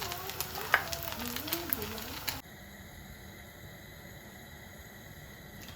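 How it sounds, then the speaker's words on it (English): A fish cake deep frying in hot oil, producing a close crackling sizzle with scattered pops for a little over two seconds while a voice talks over it, then cutting off abruptly to a quiet, steady hum. "after I deep fried the fish cake"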